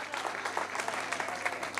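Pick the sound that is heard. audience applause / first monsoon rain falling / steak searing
audience applause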